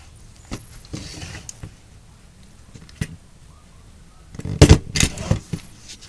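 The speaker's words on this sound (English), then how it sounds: "start stapling it all the way across the top." A handheld stapler fastens a zipper onto a duct tape portfolio, with a few scattered sharp clicks and then a louder cluster of crunching staple snaps near the end, close and unaccompanied by talk.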